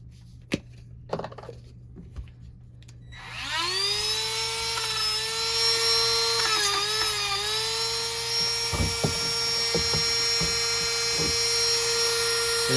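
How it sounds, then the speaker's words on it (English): A Dremel fitted with a fabric polishing wheel and brown polishing compound, used during a guitar restring, spins up after a few faint clicks into a steady high-pitched whine that wavers slightly under load, close and continuous. "The other way to do it is the Dremel with a wheel, a fabric wheel on it."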